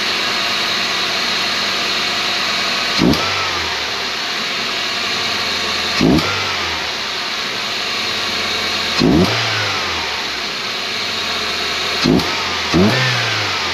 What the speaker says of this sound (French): ça fait un petit bruit d'aspiration, ça fait un petit bruit d'air